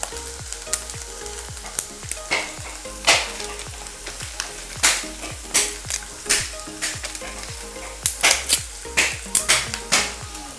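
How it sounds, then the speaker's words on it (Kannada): Whole cinnamon and cloves sizzle and crackle in a hot pan, a steady fry punctuated by sharp, close spatters and pops that come in uneven bursts throughout, with no talking. "ಚಕ್ಕೆ ಲವಂಗ ಫ್ರೈ ಆವಡು"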